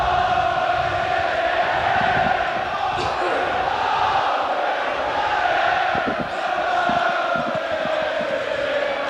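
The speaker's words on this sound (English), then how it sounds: "As the crowd find their voice" Football crowd at a 1993-94 Portsmouth v Middlesbrough match sings and chants in a steady, distant roar that fills the whole stretch.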